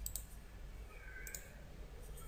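A computer mouse gives a few faint, sharp clicks near the start and once more midway, heard against a steady low hum of room noise.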